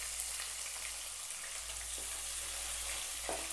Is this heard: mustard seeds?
yes